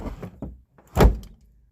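A Toyota Camry door on a rally car project is pushed shut into a bent door frame, with a couple of soft knocks and then one solid thunk, close and alone.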